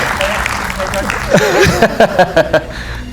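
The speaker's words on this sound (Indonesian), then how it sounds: "Kita berikan tepuk tangan buat Bung Henry Satrio dan juga buat Babe" A studio audience applauds at an Indonesian televised political talk show, the clapping mixed with someone talking over it and a run of short rhythmic bursts near the end.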